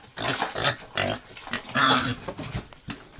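A pig on a village farm, grunting and squealing in several bursts at close range near a feeder, with no talk over it.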